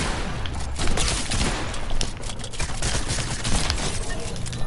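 Dense, continuous video-game gunfire with overlapping shots and bursts at steady loudness throughout, no talking.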